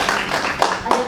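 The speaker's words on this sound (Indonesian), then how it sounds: "Tepuk tangan untuk Syafira." Students in a university teaching session clap for a classmate, a short burst of fairly close, moderately loud applause about one second long, with faint voices mixed in.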